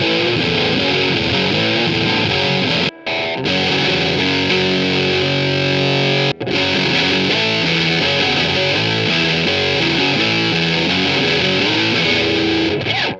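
Heavily distorted electric guitar played through a Rat pedal into a dirty cabinet impulse response, thick sustained chords with two abrupt brief cutoffs, loud and continuous.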